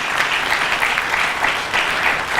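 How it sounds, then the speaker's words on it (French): An audience at a Christian literature fair in Kinshasa applauds in a brief, steady round of close, dense clapping with no speech over it. "applaudissons une fois de plus Madame Rina"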